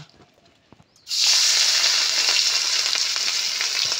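Marinated shrimp dropped into hot oil, with a second of quiet before a sudden loud, bright sizzle that keeps hissing steadily with faint crackles for the rest of the clip.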